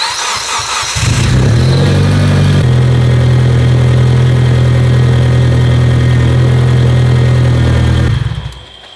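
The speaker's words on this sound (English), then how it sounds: "Now we're gonna get in the car, fire it up so the pump is turning and spinning" Rebuilt Mitsubishi Evo engine cranking briefly, then catching and settling into a loud, steady idle, running close up for several seconds before cutting off at the end.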